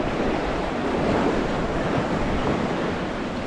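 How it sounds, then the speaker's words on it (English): Headwind sweeping across open water on a bass fishing lake, a steady broad rush of wind and lapping waves with mic buffeting, continuous and even throughout with no voices. "Head on wind, it's not great conditions"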